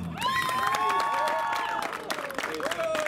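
Supporters at a Minišoseja round 5 motorsport awards ceremony at Biķernieki track cheer loudly for a Pro 2000 class winner, with drawn-out shouts or whistles rising over scattered clapping.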